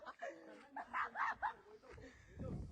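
A dog gives a few quick, faint barks followed by soft whimpers, with a voice speaking and some shuffling noise.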